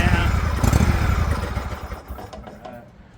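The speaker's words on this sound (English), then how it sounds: "It runs. The engine's great." A John Deere LX178 lawn tractor engine, flooding and leaking fuel, runs with a loud, rough, pulsing rumble close by, then gradually winds down and fades toward the end.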